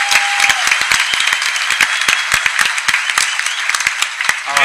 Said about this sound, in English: Let's all have a round of applause for Graham.